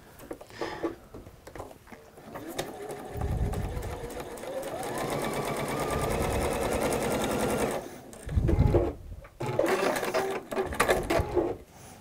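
A sewing machine stitches through a seam in a workshop, running in a steady rapid whirring burst for several seconds, with short stops and starts and a few thumps around it, close and fairly loud.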